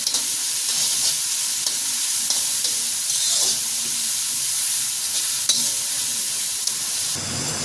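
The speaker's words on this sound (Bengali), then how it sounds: "পেঁয়াজ আর মরিচগুলো একটু ভালো করে ভেজে নেব।" Onions and chilies frying in a pan for a tomato rui fish curry, a steady close sizzle with occasional stirring scrapes throughout, no talking.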